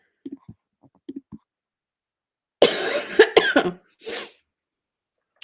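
A few faint clicks, then a close cluster of rough coughs, followed by one more short cough a moment later.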